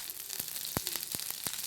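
Fresh green curry leaves sizzle steadily in hot oil in a pan, a constant bright fry with several sharp pops and crackles breaking through, close and alone.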